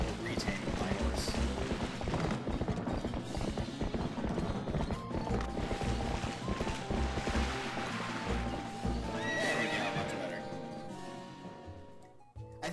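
A horse in the video game Zelda: Twilight Princess gallops with rapid, rhythmic hoof clops and occasional whinnies, mixed with game music and effects while a person talks over it.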